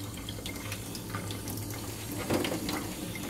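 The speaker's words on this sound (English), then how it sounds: "I'm leaving it in the running water" Tap water runs steadily into a sink where black drum fish are being cleaned, a continuous close splashing wash with a slight surge near the end and no talk.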